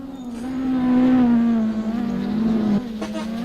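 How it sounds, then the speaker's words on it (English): A race car stuck during a simulated Patriot Grand Prix race, its engine held at a loud, steady high rev with slight pitch wavering for a few seconds before it briefly dips and returns, no talk over it. "You're gonna want to rev that throttle as much as you can,"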